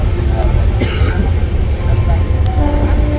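A Vivek Express passenger train runs between Kerala and Nagaland, heard from inside a crowded general compartment: a loud, continuous rumble and clatter of the coach, with a brief cough over it.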